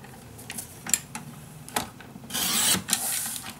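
Paper being cut for a box pocket in a papercraft project: light scraping and rubbing with a few soft ticks, then a longer rasping cut near the end, fairly close and quiet.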